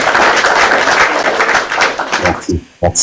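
Audience applause and cheering at a public gathering, a dense, steady wash of clapping and crowd noise that fades out near the end, followed by a brief resumption.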